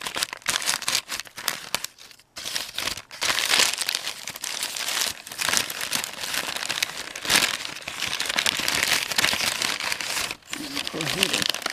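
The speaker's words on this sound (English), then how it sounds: "Go ahead and remove the sticker." A sticker label peeled and pulled off the packaging of a customized Barbie doll, with sustained crinkling and tearing of paper and plastic close to the microphone and brief pauses in between.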